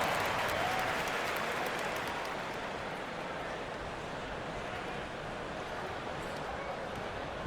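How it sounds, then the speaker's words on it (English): Dense, steady crowd applause and cheering in the NBA 2K25 basketball video game, loud at first and easing slightly, with no clear individual voices standing out. "round of applause."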